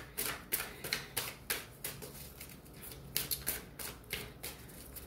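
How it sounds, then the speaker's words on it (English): Tarot cards being shuffled and pulled, a series of quick, crisp riffling bursts at an uneven rhythm, close and fairly soft, with no talking. "So let's pull some more cards."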